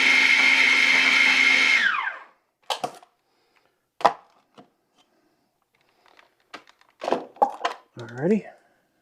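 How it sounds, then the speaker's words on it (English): A blender whirs loudly for about two seconds shredding cooked chicken, then winds down, followed by scattered clunks and taps and a brief voice. "So I'm just going to put a couple into the blender here."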